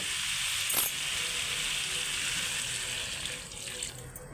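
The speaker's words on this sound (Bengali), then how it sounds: "এবার জল দিয়ে দেব।" Water is poured into a curry of yardlong beans, potato and rohu fish in a pan, a steady continuous splashing rush that stays close and even throughout.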